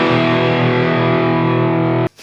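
A Gibson Les Paul Classic gold top electric guitar played through its bridge humbucker with heavy distortion, a loud sustained chord ringing steadily for two seconds before it is abruptly cut off.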